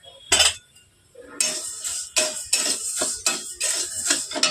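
Sonamukh dal being dry roasted in an unoiled kadai, with a series of sharp metallic scrapes and clinks from a spatula against the pan, mostly rhythmic after a brief pause, close and loud with no talking.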